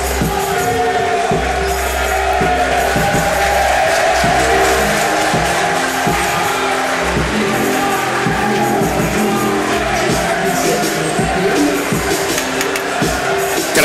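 Crowd noise at a college football event between Heidelberg and Wilmington, a dense, steady roar of cheering and yelling from a large group, loud and continuous throughout with shouts rising above the wash.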